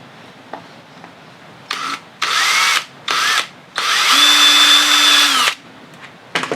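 A power drill bores holes through a clamped template for a 1936 Bush battery radio, with several loud whirring bursts of varying length, the longest near the end, close up and without talk.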